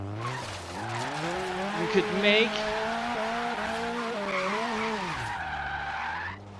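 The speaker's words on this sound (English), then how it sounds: "Wheel spin." A drifting car in Forza, a MINI on a Logitech G920 wheel, spins its wheels and skids, a revving engine whine under a steady tire squeal with a sharp chirp midway, alongside a voice talking over it.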